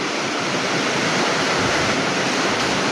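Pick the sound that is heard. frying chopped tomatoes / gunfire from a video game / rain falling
rain falling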